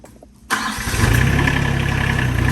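An RK25 compact tractor's engine cranks and catches after a short quiet moment, then settles into a loud, steady diesel idle close by.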